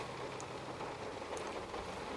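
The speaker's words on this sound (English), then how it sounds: "All I see is rain. Lots and lots of rain." Steady rain falling outdoors, a dense, even hiss of drops continuing without a break, fairly close and moderately loud, with no talking over it.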